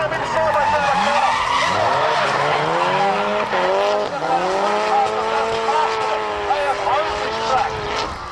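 A drift car slides sideways through a corner at a drift nationals event, tires squealing in long wavering howls over a roaring engine, with an announcer talking over the action.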